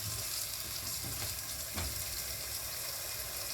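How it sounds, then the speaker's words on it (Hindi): Chicken and potatoes fry in a pan, giving a soft, steady sizzle with a few scraping stirs as they are mixed together. "अब हमारा चिकन थोड़ा फ्राई हो चुका है, तो हम इसमें पोटैटो डाल देंगे, थोड़ा सा मिक्स कर लेंगे।"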